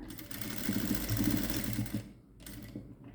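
A sewing machine runs a dense burst of rapid stitches on a blouse, reinforcing the seam. The close, rattling whir lasts about two seconds, then stops, followed by quieter handling noise.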